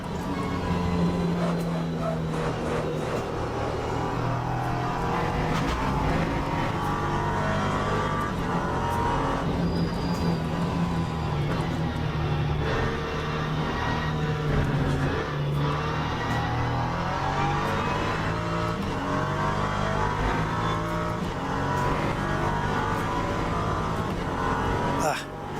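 A race car engine in the Le Mans Ultimate racing game drones and whines loudly and continuously, its pitch rising and dropping through gear changes, with someone talking over it now and then.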